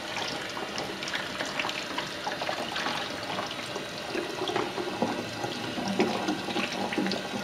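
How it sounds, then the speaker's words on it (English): A running kitchen tap splashes steadily over leeks as they are rinsed of grit, with a continuous hiss of water and small shifting splashes, no voices. "So I'll just run them under a tap and give them a bit of a wash."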